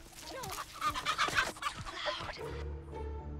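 Chicken in The Texas Chainsaw Massacre video game clucking in a short run of close, choppy clucks and squawks, followed by a low game hum.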